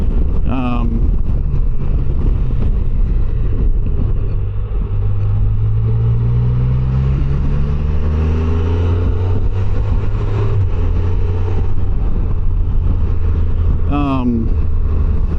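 Rider on a 2025 Can-Am Canyon three-wheeler, a loud continuous engine drone with rising and falling gear pitches under heavy wind buffeting, with talking throughout.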